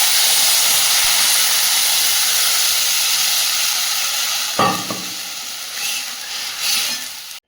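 Vegetables, including bitter gourd, frying hard in a pan as water is poured in, giving a loud, steady steam hiss and sizzle that surges and bubbles when the water hits partway through.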